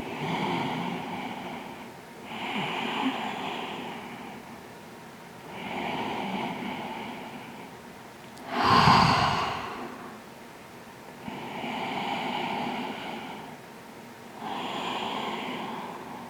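Slow, deep breathing in child's pose during yoga, with about five long, even breaths in a calm rhythm, close by. One breath is a louder, sharper exhale, and no one talks.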